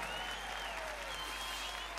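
Concert audience at a 2005 sixties-music festival applauding steadily, a dense continuous wash of clapping throughout.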